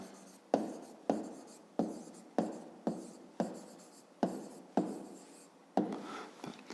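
Pen writing on paper during a fifth-grade math exercise: about a dozen short close scratching strokes in a steady rhythm, each starting sharply and fading, with quiet gaps between and no talking.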